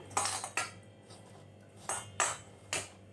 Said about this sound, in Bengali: দিয়ে সবকটি উপকরণ ভালোভাবে মিশিয়ে নেব।